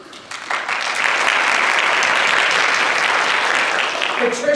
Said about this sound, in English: we would like to get a round of applause with them.